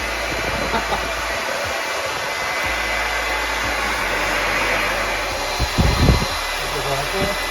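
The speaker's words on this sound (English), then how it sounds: "Okay, Paul, I've got my candle, I've got my hairdryer, so let's give it a bit of a blow." A hair dryer blows continuously with a loud, steady whooshing roar, close by, while voices are faintly heard underneath.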